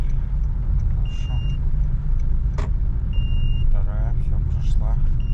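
Honda Shuttle car driving in second gear, a steady low engine and road rumble from inside the cabin, with occasional faint beeps and someone speaking over it.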